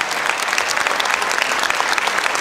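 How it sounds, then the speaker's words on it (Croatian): A concert audience gives sustained, steady applause for the Kragujevac Concert grand folk orchestra, a dense and even clapping from many hands that fills the hall without pause. "aplauz velikom narodnom orkestru Kragujevac koncerta pod upravom gospodina Vlade Tucakovića"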